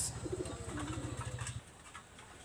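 Cooing from a Gola Lal pigeon, a well-known Khulna breed, comes as a close, steady run of low pulsing calls that stops partway through.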